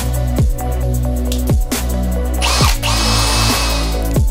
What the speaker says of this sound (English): Careful not to over-tighten these because it's only in plastic you're drilling.